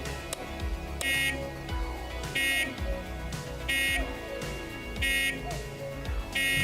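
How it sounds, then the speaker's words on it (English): A harsh electronic alarm buzzer in the train simulator game Derail Valley sounds in repeated bursts, roughly every one and a half seconds, over rumbling game background noise. "Okay, that sounds like car alarm."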